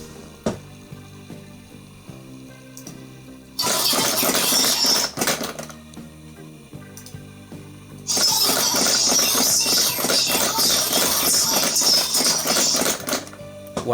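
A dead arcade animatronic whirs back to life after its button is pressed, loud clattering mechanical rattling in two bursts separated by a quieter pause, over faint background music.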